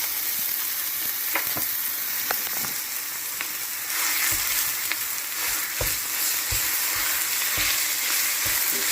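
Ground turkey browning in a pan with sautéed onions and green peppers gives a steady broadband sizzle, with scattered stirring clicks and scrapes throughout; it grows a bit louder partway through, and no one speaks.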